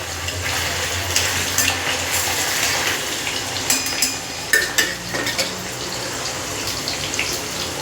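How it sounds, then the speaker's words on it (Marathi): Green peas and paneer frying in hot oil, a continuous close sizzle with scattered clinks and scrapes of a utensil stirring the pan, no voices. "तेलात तळून घेतले"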